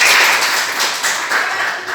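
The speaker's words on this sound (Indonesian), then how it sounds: "tepuk tangan dulu untuk kita semua" A classroom of students claps hands together, a brief burst of dense, fairly loud applause close by with no voices over it.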